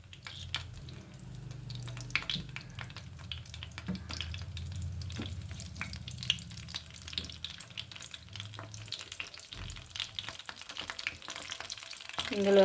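Whole spices such as shahjeera and a bay leaf fry in oil with garlic in a pan, giving a soft continuous sizzle with scattered crackles and faint stirring scrapes.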